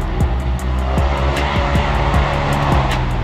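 A turbo RS1 off-road vehicle races around a GP dirt track at Durhamtown, its engine loud and close and revving hard with rapid throttle changes and shifts.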